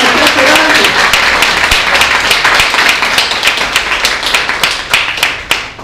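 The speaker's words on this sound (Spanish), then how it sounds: "¿Cuánto le dan un aplauso al Señor?" Church congregation applauding for the Lord during a Spanish-language sermon: loud, dense clapping from many hands, steady throughout and thinning into scattered claps near the end, with voices mixed in.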